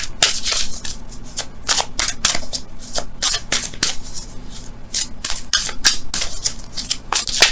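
Romance angel oracle cards are shuffled close up, a steady stream of crisp riffling and flicking slaps with a brisk uneven rhythm, no talking.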